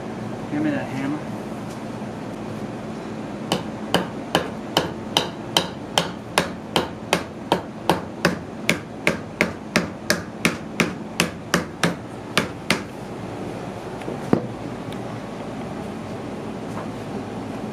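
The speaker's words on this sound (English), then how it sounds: "give me that hammer" A hammer strikes a pop-up camper's air-conditioner fan in a steady run of about twenty sharp, evenly spaced blows, close and loud over a low background hum, with a single stray knock after a pause.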